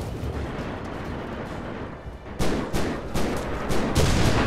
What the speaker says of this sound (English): Okay, smokes are going in.